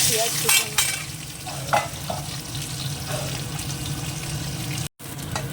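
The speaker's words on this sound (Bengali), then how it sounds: "পেঁয়াজটা ভাজা হয়ে গেছে" Onions frying in a pan with five-spice and dried chilli while being stirred, a steady sizzle with occasional scraping stir sounds, close and moderately loud.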